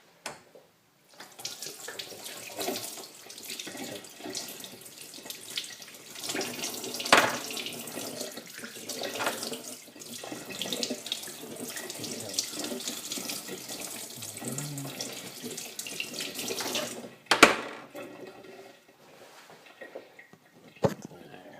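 Tap water runs steadily into a sink while a painted model is rinsed under it, a continuous close splashing rush with brief louder knocks near the end.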